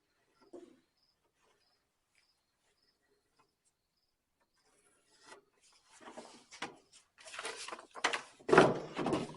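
A pencil traces an outline on a wooden board for a hot rod Chevy bed floor. Near-silence gives way to a run of scratchy rubbing strokes that grow louder and denser toward the end.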